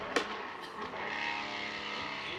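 A drift car at Fuji Speedway during Formula Drift Japan qualifying, engine revving hard under aggressive throttle, a sustained distant roar with a sharp burst at the start.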